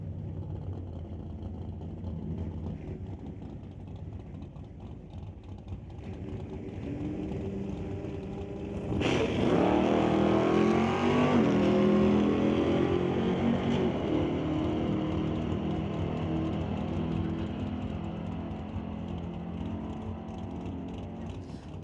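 A 1968 Cougar and a 1973 Nova launch in a street-legal drag race at a raceway, the engines rising from a distant rumble to a loud surge around the ninth second before easing into a sustained, gradually fading roar.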